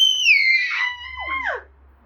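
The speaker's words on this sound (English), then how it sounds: "Mommy can scream too." A woman's high, piercing scream with a falling pitch sounds loud and close, breaking into a shorter squeal before tapering off into quiet.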